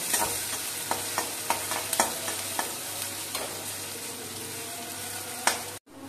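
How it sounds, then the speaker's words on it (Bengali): Onions tossed into hot oil in a wok and fried for a shrimp curd curry, giving a steady loud sizzle with repeated sharp stirring clacks of a spatula, ending in a brief cutoff. "তেলটা গরম হয়ে গেছে, আমি পেঁয়াজগুলো দিয়ে দিচ্ছি"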